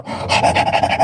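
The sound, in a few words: dog panting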